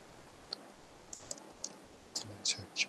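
A computer keyboard clicks in sparse, irregular keystrokes, a few single taps early and then a quicker cluster of louder clicks toward the end, close up in a quiet room.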